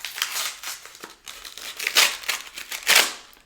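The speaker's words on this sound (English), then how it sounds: "that is to open the envelope" A paper envelope is torn open and handled up close, with bursts of crinkling, ripping and rustling in irregular clusters and no talking.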